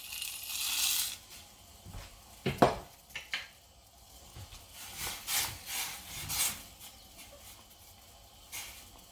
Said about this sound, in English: And I'll just dump in my dehydrated vegetables.